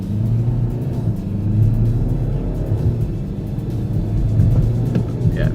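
BMW X4 accelerating in Sport mode, heard from inside the cabin as a steady low engine rumble and road drone that holds fairly even throughout, no talking.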